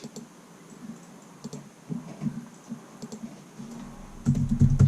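Someone types on a computer keyboard in an RV, producing light, uneven clicking keystrokes close by that grow denser and louder toward the end, with no talking.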